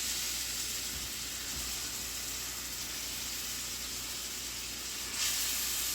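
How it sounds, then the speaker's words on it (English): Onions sautéing in a pan for meatloaf, a steady close sizzle and hiss holding evenly throughout with no pauses. "I like to saute mine a little bit."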